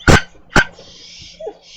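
A dog gives two loud, sharp barks close by, each quickly following the other, and then a short, quieter whine.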